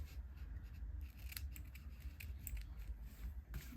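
A few quick snips of scissors trim ribbon ends during stamping and card crafting, faint and close against a low steady hum, with no talking.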